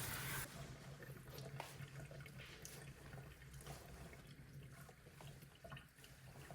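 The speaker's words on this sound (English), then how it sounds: "Give your puppy a nice thorough rinse." Running faucet water pours steadily while a puppy is rinsed in a sink or tub, a close, continuous splashing hiss with small shifts as the stream hits fur and basin.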